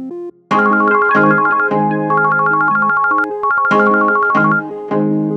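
A phone rings loudly and close during a call, playing a repeating melodic ringtone pattern that sounds alone, with no voices over it.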